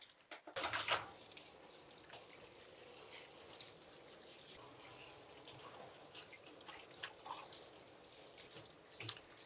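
Shower head water rinsing a Schnauzer dog during a commercial grooming session, a soft steady spray with splashing and dripping, quiet and continuous.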